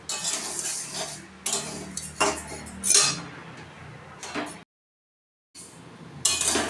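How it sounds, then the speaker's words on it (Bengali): Moong dal dry-frying in a wok over a medium gas flame, stirred continuously with a metal spatula: repeated close scraping, rattling bursts with clinks, broken by a second of silence before the stirring resumes. "এবার এটাকে ভালো করে অনবরত নাড়তে হবে।"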